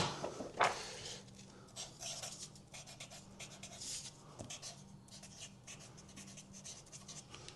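A pink marker writing on a panel, close scratchy squeaks and strokes in short irregular bursts, with a sharp tap early on and no talk.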